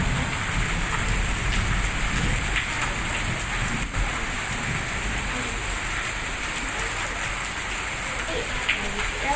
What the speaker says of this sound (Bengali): অবস্থা দেখো, বৃষ্টি হচ্ছে।